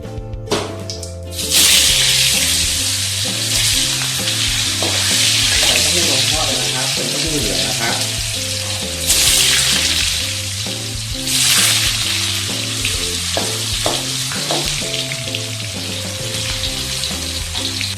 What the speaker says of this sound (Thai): แล้วเราก็ทอดเต้าหู้ต่อนะครับ